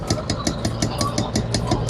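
A 1970 Renault R6 engine idles with a steady, rhythmic chugging pulse, close and moderately loud, the regular beats evenly spaced and running on alone.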